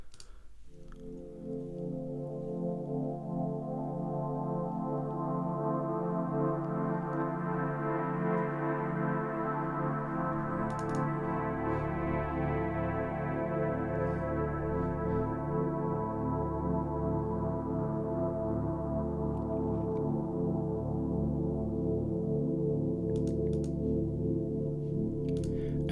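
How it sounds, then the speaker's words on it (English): Sustained synthesizer pad from a Waldorf Iridium, a broad, evenly loud harmonic chord that holds steady for the whole stretch, with a deeper low layer entering partway through and no voices. "The first sound is a pad from the Wild of Iridium right in front of me,"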